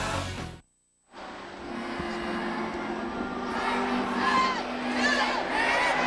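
Ballpark crowd at a Red Sox versus Dodgers spring training game in the Los Angeles Coliseum, led by youngsters in Take Me Out to the Ball Game: a broad, steady wash of many voices that briefly drops out, then swells back fuller and louder.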